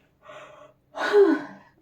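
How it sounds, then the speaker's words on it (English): A drawn-out human yawn, close and fairly loud, beginning with a soft breathy intake and swelling into a voiced, stretched exhale that trails off; no other sounds around it. "another yawn"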